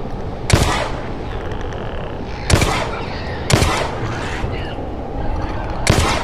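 Four sharp, loud gunshots ring out at irregular intervals over a noisy, rumbling background, each crack trailing off briefly before the next, in The Last of Us: Left Behind gameplay.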